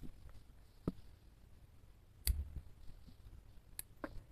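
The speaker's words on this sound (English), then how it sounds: "Now you can cut the tails." Scissors snip through crochet yarn tails in a few sharp, quiet clicks, spaced apart over a hushed background, with one slightly louder cut partway through.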